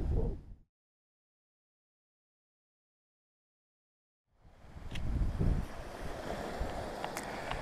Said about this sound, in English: listening to the waves on the beach